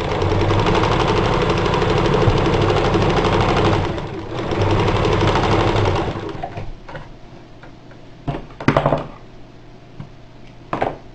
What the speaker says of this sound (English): start sewing them together in lengths of 3.